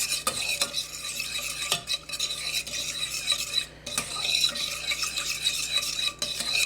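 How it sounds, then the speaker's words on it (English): Yeast being stirred into warm water in a bowl for Danish breakfast rolls, a steady clinking and scraping of a spoon against the container, close and fairly quiet, with no voices. "And then I sprinkle in the yeast. And stir it. Mix it up a little bit."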